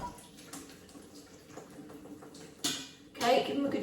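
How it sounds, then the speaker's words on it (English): Boiled potatoes are tipped into a colander over a kitchen sink, a rush of pouring water and a metallic clatter rising near the end, after a stretch of quieter kitchen clatter and faint movement. "you need to use a colander and drain them over the sink"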